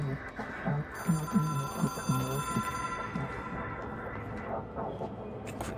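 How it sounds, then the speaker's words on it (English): A telephone rings in the video game Control, a repeating electronic bell-like tone with a steady pulse, while someone speaks over it and game ambience continues. "It is a phone."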